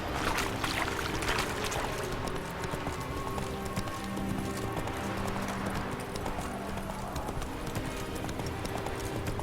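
Steady galloping hoofbeats from Roach, the player's horse in The Witcher 3, drum on without pause, near and even, beneath a bed of game ambience and music.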